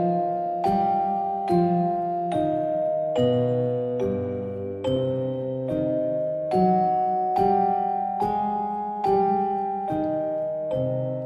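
The Scaramouche boss theme from Genshin Impact, a slow video game melody of evenly spaced, ringing tonal notes over sustained low accompaniment, steady and clear with no talking.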